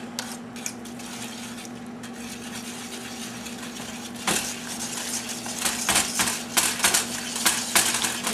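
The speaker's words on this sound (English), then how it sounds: "you whisk the eggs in one at a time" A whisk beats eggs into brownie batter in a bowl, clicking and tapping rapidly against the sides, sparse at first and then growing louder and more frequent in quick bursts.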